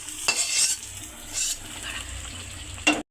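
Malabar spinach goes into a hot tempering of ground chili, onion, garlic and dried fish, giving a short sizzle and stirring scrape with a few clinks of a utensil against the pan, then a sudden stop.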